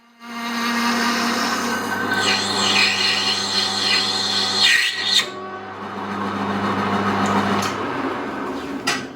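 A carbide-tipped hole saw cuts steadily while making a part for a 1929 motorcycle, lubricated with isopropyl alcohol; a loud, continuous harsh rasping and grinding runs close up for the whole stretch, with brief dips in intensity.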